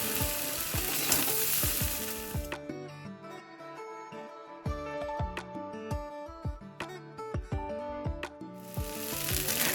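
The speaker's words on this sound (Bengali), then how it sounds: "দেখো পাস্তাটা মোটামুটি ভালোই ভাজা ভাজা হয়ে গেছে" Boiled pasta and egg stir-fried in a pan, with steady close sizzling and frying and a series of sharp clinks and scrapes from stirring that come at an irregular rhythm, without any talking.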